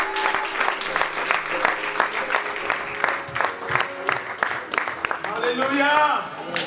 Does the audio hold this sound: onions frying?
no